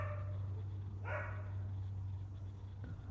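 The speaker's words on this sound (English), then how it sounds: "Now she's barking too." A dog barks once in a short burst at mid distance, standing at a gate, over a steady low hum and quiet background.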